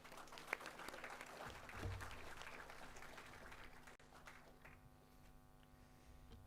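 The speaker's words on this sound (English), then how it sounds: "Round of applause." Audience clapping at the PRSC Year 11 awards ceremony, fairly quiet and steady with a low electrical hum underneath, briefly dipping partway through before continuing more softly.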